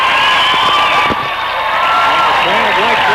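Cheering and applause from a baseball crowd after a strikeout in a game between Chiefs and Dare County, a sustained roar with a few sharp claps and whoops, with voices talking over it.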